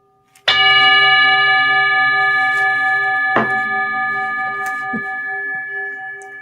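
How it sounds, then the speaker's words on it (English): A meditation bell struck once loudly and close, ringing with a long, pure sustained tone, then struck again a few seconds later so the ringing swells and keeps slowly fading. "Ring the bell."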